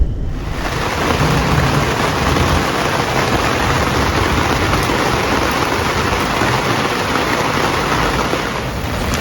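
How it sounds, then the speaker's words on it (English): Heavy rain pours down in a dense, continuous roar with deep rumbling of a thunderstorm underneath, loud and close throughout. "the wind picked up and it started to rain, and soon a storm swept through"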